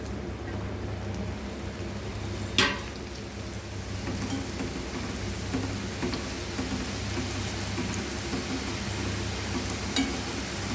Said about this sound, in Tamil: இதை எடுத்துட்டு அப்படியே நம்ம எண்ணெயில் பொரிச்சிக்க வேண்டியதுதான்